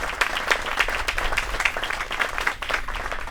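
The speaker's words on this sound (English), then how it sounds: "Give Mayor Suarez a big round of applause." A crowd applauding steadily at a groundbreaking ceremony, dense clapping from many hands at an even level throughout, with no voices standing out.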